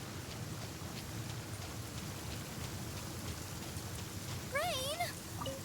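Steady rainfall in Genshin Impact, in the Fontaine region, hisses as a continuous broadband patter. Near the end a brief, high warbling call rises above it.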